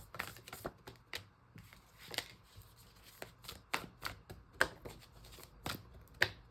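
Tarot cards being shuffled by hand, a run of crisp, irregular riffling clicks and slaps close by, with quiet gaps between bursts.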